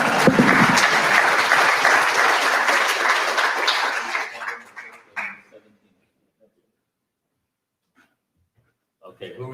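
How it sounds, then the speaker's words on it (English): An audience claps after a pitch talk at an innovators' showcase event, the loud clapping running for about four seconds before dying away into near silence, then a voice begins speaking. "who are we clapping for next?"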